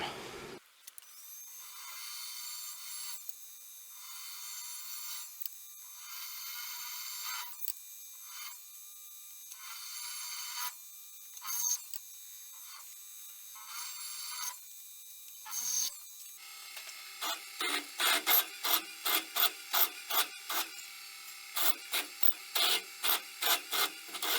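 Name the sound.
drill bit boring holes in knife handle scales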